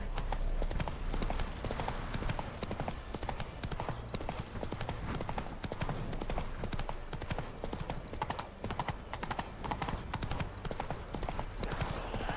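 Horse hooves clip-clop steadily and fairly close in The Witcher 3 video game, a continuous rhythmic trot over game ambience lasting the whole stretch, with no speech.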